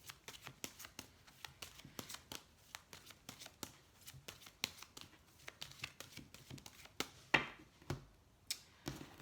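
Petit Lenormand cards are shuffled and handled in a steady run of crisp, close flicks and soft riffles, with no talking.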